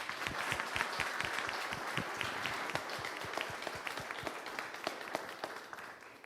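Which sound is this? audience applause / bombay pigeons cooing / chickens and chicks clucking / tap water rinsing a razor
audience applause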